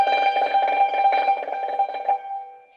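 Chinese hammered dulcimer struck with bamboo hammers in a quick single-row tremolo, a bright shimmering run of rapid metallic notes that rings out and decays at the end, close and solo.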